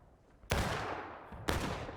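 Two loud musket volleys crack out about a second apart in the War of Rights battle game, Burnside's Bridge map with 250 players, each followed by a rolling, crackling tail of scattered gunfire.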